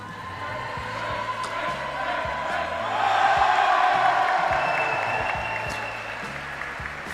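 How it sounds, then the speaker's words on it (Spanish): A handball arena crowd applauds the Copa Galicia men's champions, sustained clapping with some cheering that swells midway, while an announcer speaks over it and background music plays. "Forte aplauso para os campeóns desta Copa Galicia."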